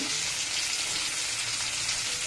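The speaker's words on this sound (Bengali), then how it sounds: "সমস্ত সবজি আঁচ কমিয়ে ভেজে নেব" Taro, radish and beans frying in a pan over low heat, a steady dense sizzle that holds even and loud throughout with no voices.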